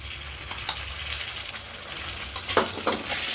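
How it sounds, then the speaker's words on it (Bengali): Crushed tomato is stirred into catla fish masala frying in a pan. A steady, close sizzle runs under scraping stirs, with a few sharper clinks and a brighter hiss swelling at the end. "খুব ভালো করে মিশিয়ে নেব এবার এখানে ফ্যাটানো টমেটো দেবো দু চামচ মতো"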